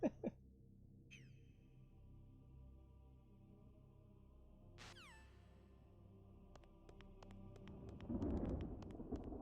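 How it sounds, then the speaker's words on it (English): Rolling thunder in a GameCube video game, a low rumbling bed that swells toward the end amid music tones and sharp game effects. "Listen to that thunder roll."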